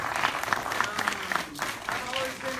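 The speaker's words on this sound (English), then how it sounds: "give her a round of applause" Applause for a woman at a Q&A event, a steady wash of clapping lasting a few seconds at moderate level, with some voices mixed in.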